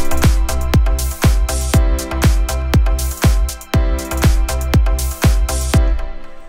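A VPS Avenger synth plays a chord through a Future Pop 100 BPM sequence, with loud, punchy kick-driven pulses repeating at a steady tempo under sustained tones, with no talking.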